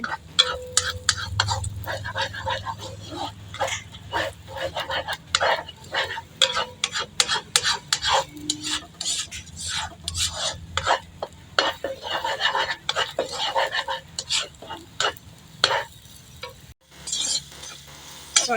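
Egg stirred and fried in a pan while cooking Baguio pechay, with rapid, rhythmic scraping and clinking of a utensil against the pan over a continuous sizzle. The sound is close and busy and carries on throughout.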